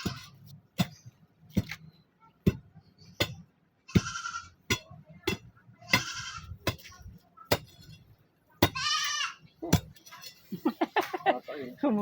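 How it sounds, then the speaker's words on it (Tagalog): A goat bleats outdoors, a few wavering calls scattered among sharp clicks and knocks, with a bright, nearby bleat near the end. "May kambing."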